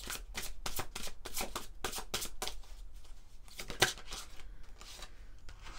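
A deck of soul-healing oracle cards being shuffled up close, with rapid riffling flutters and soft slaps in quick bursts that thin out toward the end, marked by one sharper snap.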